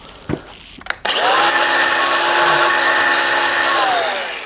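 A few scraping knocks, then an angle grinder whines up and screeches steadily against a metal spoon or ring, loud and close, holding a high grinding tone.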